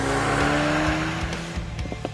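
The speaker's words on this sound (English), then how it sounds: "This is the new entry-level F-Type, and it makes do with 2 litres, 4 cylinders and a turbocharger" A Jaguar F-Type with a 2.0-litre turbocharged four-cylinder engine drives close by. Its engine note holds a steady, strong hum, and sharper bursts and tyre noise come through toward the end.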